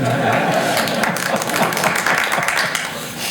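An audience at a conservation symposium session claps, a busy patter of hands mixed with murmuring voices, fairly loud and continuous.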